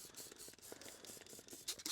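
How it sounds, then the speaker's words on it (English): A steady hissing spray of liquid onto a leaking tire's tread runs continuously with faint mechanical clicks underneath, fairly quiet and close. "So I'm just spraying the tread"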